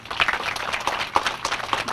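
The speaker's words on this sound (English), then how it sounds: "Let's give her a round of applause again." An audience at a senior services center reopening gives a short round of applause, with scattered claps of moderate loudness and no talking over it.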